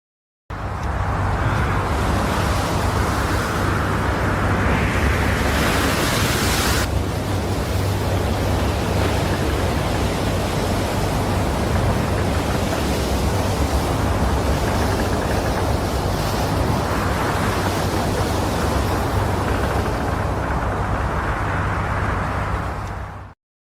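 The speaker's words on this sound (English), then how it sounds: "Battling rough waters, a boat struggles to stay steady as powerful waves slam into it relentlessly." Powerful waves slamming into a boat in rough water, a loud, continuous broadband roar of surging water and wind with no letup throughout.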